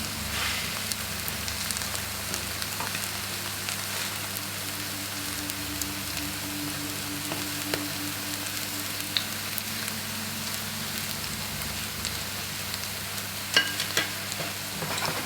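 Plantains frying in a pan give a steady, close crackling sizzle that runs evenly throughout, with small pops and spatters and no voices.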